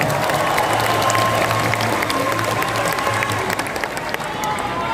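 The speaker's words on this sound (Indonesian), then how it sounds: "Tepuk tangan untuk para pejuang reformasi kita." Crowd applauding and cheering for reform fighters at a gathering marking 25 years of reform in Indonesia, dense continuous clapping with scattered shouts and crowd noise.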